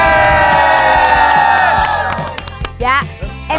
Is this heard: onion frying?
no